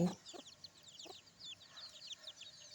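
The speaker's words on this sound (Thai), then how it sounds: "ไก่ก็ได้ไก่ก็อยากกินน้ำ" Chickens cluck softly outdoors, a quiet scatter of short repeated calls with no talking.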